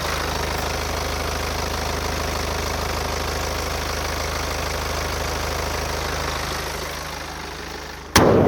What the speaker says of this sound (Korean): 엔진음까지 듣고 영상 마치겠습니다